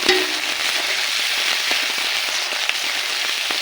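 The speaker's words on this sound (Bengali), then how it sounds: "এটাও পেঁয়াজ রসুন আদার সঙ্গে ভালোভাবে মিশিয়ে ভেজে নিতে হবে।" Steady, loud crackling sizzle of cumin and mustard paste frying in a little oil with onion, garlic and ginger, a continuous dense spitting hiss with scattered pops throughout and no voices.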